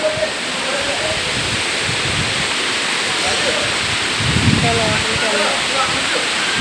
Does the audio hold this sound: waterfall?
yes